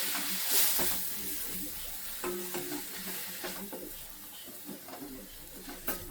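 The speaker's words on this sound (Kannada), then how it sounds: "ಸೊ ಇದು ಸ್ವಲ್ಪ ಡೀಪ್ ಫ್ರೈ ಮಾಡಬೇಕು." Palak spinach deep frying in oil in a pan, a steady sizzle with repeated scraping stir strokes from a spoon, close and moderately loud, with no talking.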